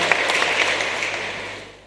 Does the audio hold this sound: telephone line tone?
no